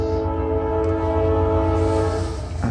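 Norfolk Southern intermodal freight train heading northbound on track one, its horn sounding a loud sustained multi-tone chord close by with train rumble underneath.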